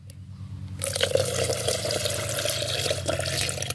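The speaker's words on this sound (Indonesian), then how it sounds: "Oh ya kita campur air sedikit ya biar encer" Water trickles and splashes steadily while it is poured into a batch of homemade paint being mixed to coat a durian tree trunk, close by and with no talking.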